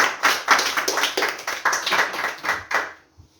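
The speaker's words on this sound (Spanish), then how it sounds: "Dale palmas al Señor ahí" A church congregation clapping hands for the Lord in a quick steady rhythm, a dense close burst of many hands repeated about a dozen times before stopping abruptly.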